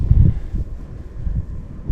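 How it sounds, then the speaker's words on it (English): Strong wind on a frozen lake during extreme-cold ice camping buffets the microphone, making low, gusty rumbles that rise and fall in bursts, loud and close. "Yeah, she's pretty windy right now."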